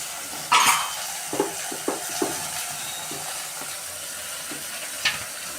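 A chili powder mixture is stirred in a hot pot, with a sizzle at first and then several scraping, clinking strokes of a spoon against the pot, loud and close, with no talking.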